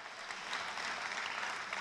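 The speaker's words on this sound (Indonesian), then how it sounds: "Tolong tepuk tangan kepada semua kolaborator" A brief burst of steady, dense applause from an audience thanking collaborators, even in level with no clear individual claps standing out.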